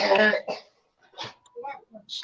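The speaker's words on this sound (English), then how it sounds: "she has a cough" A person coughs and clears their throat in a short harsh burst up close, followed by quieter throaty sounds mixed with brief talking.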